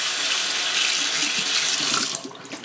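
Running tap water pours loudly and steadily into a kitchen sink as raw chicken is rinsed, with a broad rushing hiss that drops off near the end as the flow changes.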